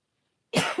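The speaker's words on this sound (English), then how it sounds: "sorry for the coughing" A single harsh, close cough breaks a long silence during a voice-only live tarot reading stream, bursting loudly and then trailing off with a second small push.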